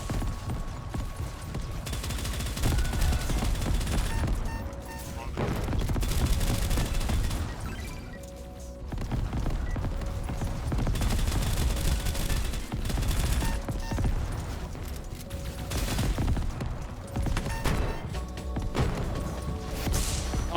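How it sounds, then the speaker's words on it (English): A barrage of missiles firing and exploding in the video game Echo Point Nova, a dense, loud, continuous rumble of launches and blasts that surges and dips in waves over the whole stretch. "so many missiles"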